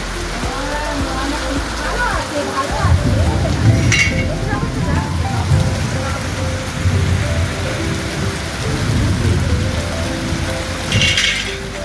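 Heavy rain pours steadily throughout, with thunder rumbling low beneath it and a couple of sharper cracks standing out.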